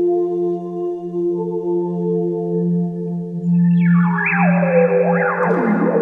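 A sustained synthesizer tone played from a Roli Seaboard Rise holds steady, then bright filtered notes sweep up and down in swooping arcs, each note's filter cutoff and brightness changing as it plays.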